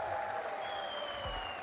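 A watch party crowd for a Rocket League esports quarterfinal claps and cheers in a steady, distant wash of applause filling a large venue.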